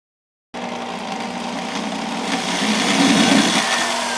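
A piano hinge being screwed onto a wall: after a moment of silence, a steady motorized whir starts and runs without a break, growing a little louder toward the end.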